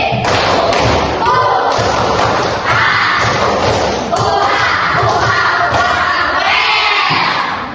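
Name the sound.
class doing a rhythmic clapping chant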